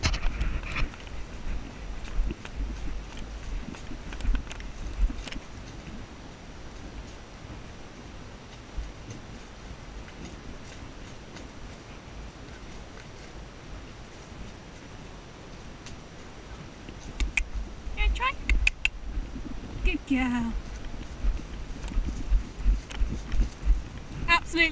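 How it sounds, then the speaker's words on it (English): A mare named Rosie trots along a quiet hack, her hooves giving a steady, rhythmic clip-clop that fades midway and returns louder, with a rider talking and occasional rustle and wind over the helmet microphone. "We're not cantering, we're just trotting."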